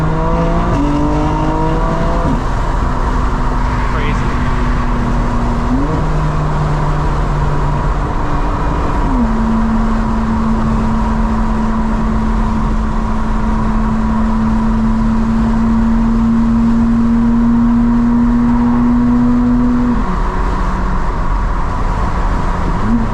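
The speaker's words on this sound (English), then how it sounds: "Here we can hear the exhaust a little bit off the wall" A 900 hp 2025 BMW M4 CS engine drones loudly and continuously, its exhaust note shifting with gear changes and reverberating off a nearby wall.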